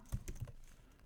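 A handful of keystrokes on a computer keyboard while JavaScript code is typed, a few quick taps close together followed by a pause and one last clear tap, fairly quiet and close.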